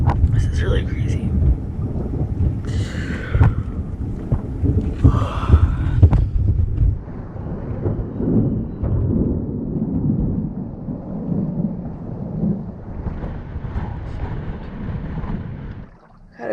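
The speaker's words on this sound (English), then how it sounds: "There's a ton of lightning everywhere." Thunder rolling during a night lightning storm at sea in the Tuamotus during cyclone season, deep rumbling swells heard from a sailboat amid wind noise, with a person speaking in the first seconds.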